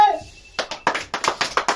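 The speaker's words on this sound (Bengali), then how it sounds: "তো আবার হাততালি হবে।" A brief voice gives way to a group clapping during a fun party game challenge, about seven sharp, evenly spaced claps, close and loud.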